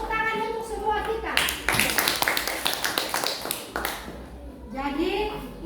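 A classroom of pupils claps together for a few seconds in a burst of dense applause, with children's voices talking before and after it.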